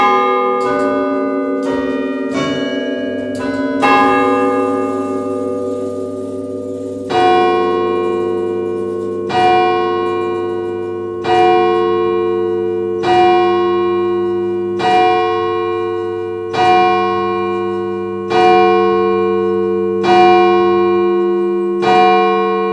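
Church bells ring in the bell tower at Pembridge, Herefordshire, a quick descending round first, then slow, evenly spaced resonant strikes that ring on and overlap, loud and close with no voices.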